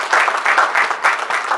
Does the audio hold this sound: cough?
no